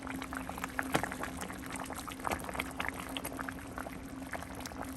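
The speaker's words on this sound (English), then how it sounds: "so it's been simmering for about 30 minutes. I'm gonna stir it up" Taco soup simmers in a pot with soft, continuous bubbling and a few light stirring knocks, faint and close, with a steady low hum beneath.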